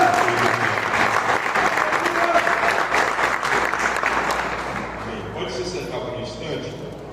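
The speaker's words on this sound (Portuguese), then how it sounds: "Quem pode aplaudir o Senhor Jesus demais?" A Baptist church congregation applauds, a dense, loud wash of clapping that holds steady and then gradually tapers off toward the end.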